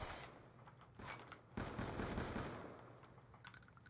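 Rapid automatic gunfire in Call of Duty, a dense burst of shots with a sustained volley in the middle and scattered single cracks afterward, fairly loud and with no talking.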